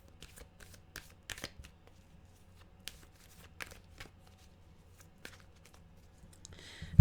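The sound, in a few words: tarot cards being shuffled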